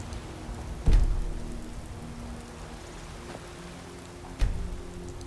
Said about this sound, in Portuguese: A chuva não passa, mano.